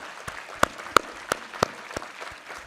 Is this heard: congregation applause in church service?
yes